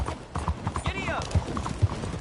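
Horse hooves clip-clopping in a PS4 video game, quick close hoofbeats with a brief whinny, mixed under excited in-game voices.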